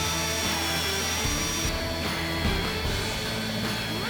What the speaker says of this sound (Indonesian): Medianya masih sama kayu ulin dengan menggunakan mata auger bit 19 mili. Untuk proses pengeboran juga masih sangat lancar banget ya guys.